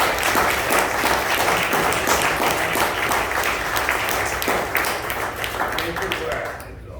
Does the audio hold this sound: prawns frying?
no